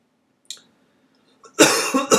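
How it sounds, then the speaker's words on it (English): A short hoarse cough comes first, then after a brief pause a heavier, longer coughing fit, close and loud. "Gotta quit coughing."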